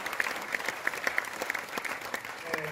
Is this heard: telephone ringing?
no